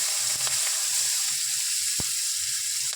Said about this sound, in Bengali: এবার আমি পেঁয়াজ কুচিটা দিয়ে দিলাম